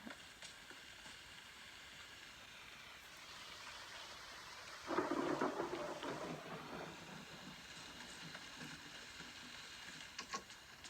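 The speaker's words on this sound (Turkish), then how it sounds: "Burada böyle yağmur sesi gerçek gibi." Rain and rolling thunder in the mobile game PUBG Mobile, a steady faint hiss of rainfall with a low rumbling swell of thunder in the middle, fairly quiet overall with no talking.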